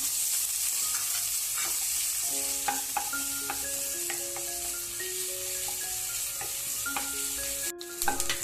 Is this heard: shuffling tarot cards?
no